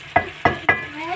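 Tinda (round gourd) with chicken being stirred in a pan, with three distinct, fairly loud spoon scrapes at an even rhythm over a light sizzle.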